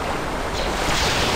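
Rushing water from a waterfall in the video game Star Wars Dark Forces II, a loud, dense, continuous roar filling the short stretch without speech.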